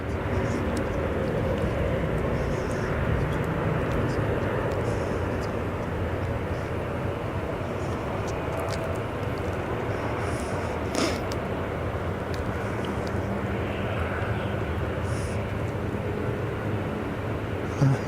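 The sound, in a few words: Edelweiss Airbus A340 airliner engines at Zurich airport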